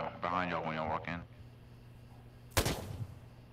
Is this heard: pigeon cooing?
no